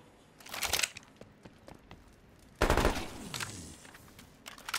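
Automatic gunfire from the game Cold War Zombies comes in two loud rapid bursts, a short one early and a longer, heavier one later, with scattered single shots and clicks between them.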